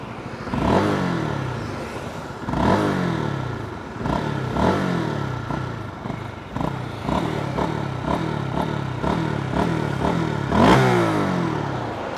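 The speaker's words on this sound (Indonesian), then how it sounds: "Ini suara knalpotnya." A Honda CBR150R motorcycle exhaust revs repeatedly, each throttle blip rising to a sharp roar then dropping back, loud and close with a clattery idle between.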